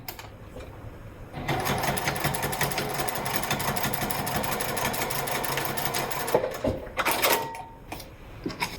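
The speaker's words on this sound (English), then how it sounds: "all you have to do is stitch down the center" A sewing machine stitches down the center of wallet card slips in a fast, continuous whir, close up and loud, followed by a few handling knocks.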